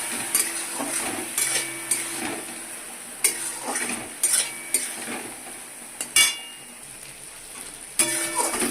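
A utensil stirs ground poppy seed, mustard and green chilli paste into okra frying in a pan, making repeated scraping clinks against the metal over a low sizzle.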